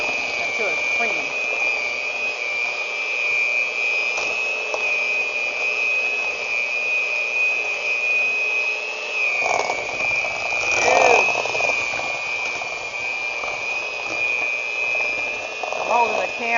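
An electric mixer beats strawberry cake batter with cream cheese, giving a steady motor whine that runs throughout, with people talking over it and occasional bumps of the beaters.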